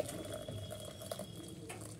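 Hot water boiled with cumin and fennel seeds being strained, giving a steady close-up liquid patter and trickle with no voices.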